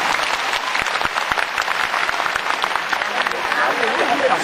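An audience at a fan meet-and-greet with a singer claps in a sustained round of applause, crisp clustered hand claps with a voice talking over them.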